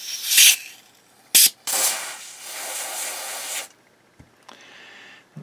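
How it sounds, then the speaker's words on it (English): Cold spray hissed onto the circuit of a Philips EL-3302 portable cassette recorder during repair: short sharp bursts, then a sustained loud spray lasting about two seconds, followed by quiet clicks. "Let's cold spray this thing."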